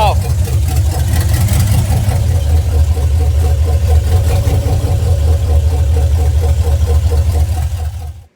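An LS-swapped G30 van engine runs steadily at idle right after its first start, a loud, deep, close rumble that holds level before cutting off at the end, with talk over it.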